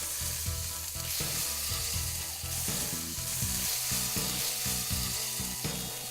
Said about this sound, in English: Wide bottom skillet, place over high heat, let it get nice and hot before you add your oil. We wanna brown the lamb a little bit